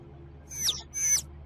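An owl-like bird call in the Angels of Death video game, two short hooting cries in quick succession, clear and alone over a low hum.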